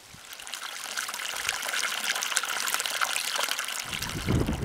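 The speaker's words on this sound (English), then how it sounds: "this is our shower" Water runs from the outdoor shower of a classic 1950s-style teardrop trailer, a steady close hiss of spray and trickle that gradually builds, with a brief low thump near the end.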